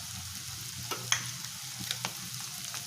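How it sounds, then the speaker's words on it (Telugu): Ginger garlic paste and spices frying in a pan for a pea curry, a steady soft sizzle with a few sharp stirring scrapes and clinks, close and alone without talk. "అల్లం వెల్లుల్లి పేస్ట్ కూడా బాగా ఫ్రై అయిందండి"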